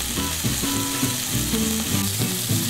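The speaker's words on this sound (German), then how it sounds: "zerteilen das in kleine Stücke und braten es in der Pfanne richtig schön scharf an" Minced meat sears in a hot pan for pizza topping, a steady dense sizzle with faint irregular spatter and stirring bumps, close and continuous with no talking.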